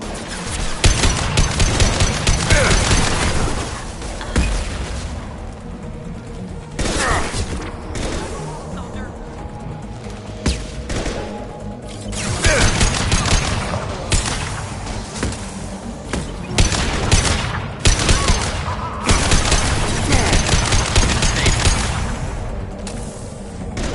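Gunfire and explosions crackle through a Mass Effect Legendary Edition battle in a dense, continuous barrage of shots and booms, with voices talking over the combat.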